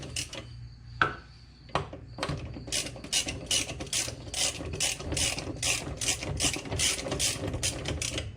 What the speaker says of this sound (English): No, that's getting flappy, can't use the ratchet anymore.